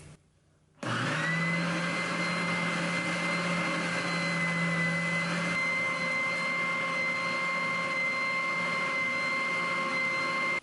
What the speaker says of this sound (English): we're just going to go with the sander for now, and we'll just grind it down until I get to the right diameter